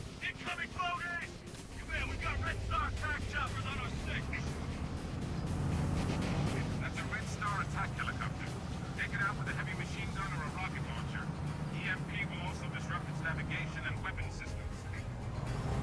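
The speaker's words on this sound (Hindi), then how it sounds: "अब रेड स्टार अलायंस की जो है हेलीकॉप्टर्स और चॉपर्स आ चुके हैं हमें डिस्ट्रॉय करने के लिए।" Enemy helicopters and choppers approach in the war shooter Frontlines: Fuel of War, a steady loud rotor and engine roar building under continuous game noise and voices.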